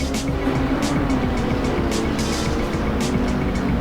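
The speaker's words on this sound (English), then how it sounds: "Steve Smith not far behind there in the Canal Racing BMW" GT3 race cars, including a BMW, lap Eastern Creek in the Assetto Corsa racing game. Several engines drone steadily with short bursts of tire noise, and no one speaks.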